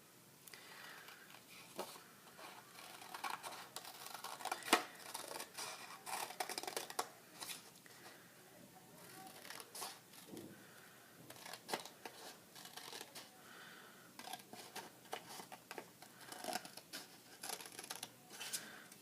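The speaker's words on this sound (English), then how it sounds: "let's start cutting. I am starting on the folded edge." Sharp scissors snip steadily through folded paper for a paper loom craft, producing a run of close, crisp cuts with brief pauses and paper rustling between them, with no talking.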